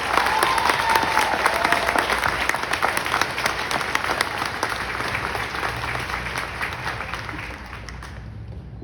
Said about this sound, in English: How about a round of applause for our military training instructors and the great staff here?